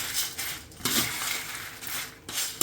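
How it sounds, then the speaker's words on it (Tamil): Rasam powder spices being stirred together in a metal vessel, giving a few dry scraping clinks and rattles of ground spice against the pot, close and moderately loud with no talking. "இப்போ எல்லாத்தையும் சேர்த்து கலந்து நல்லா கலந்து விட்டுருவோம்"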